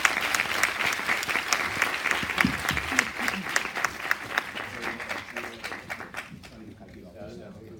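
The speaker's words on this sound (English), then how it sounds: "please give them another round of applause for our wonderful panelists" Audience applause for a panel of speakers at a healthcare politics conference: dense, steady clapping from a crowd that carries strongly, then thins and fades toward the end, with some voices mixed in.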